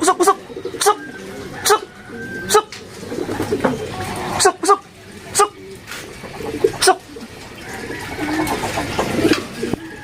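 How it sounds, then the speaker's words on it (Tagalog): At a pigeon club's first training release, a racing pigeon arrives and lands amid repeated sharp wing claps and flutters and soft coos, while people talk and laugh nearby. "Ito, kakarating lang ng lahi ng ibon ni Pakulo po."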